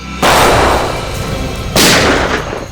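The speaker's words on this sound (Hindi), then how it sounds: "सर, फायरिंग हो रही है, तो लगता है ट्रैप है सर।" Two loud gunshots ring out about a second and a half apart, each a sharp blast followed by a long, rumbling echo that fills the space, with no voices.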